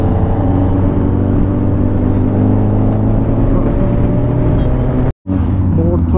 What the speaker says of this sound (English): This is M4 exhaust.